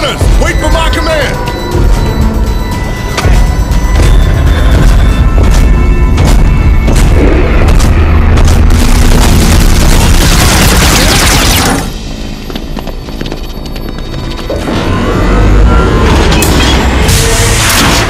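Sustained gunfire and heavy explosions from the video game Red Faction Armageddon, loud dense battle booms and bursts filling the scene, with a brief lull before the firing swells again while voices shout orders over it.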